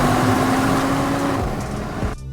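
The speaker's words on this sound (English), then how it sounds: "the car's throaty sound is even more pronounced than in other modes" Audi RS 3 Competition Limited giving a steady, throaty exhaust drone, loud and close, with a sustained engine tone that fades and cuts off abruptly near the end.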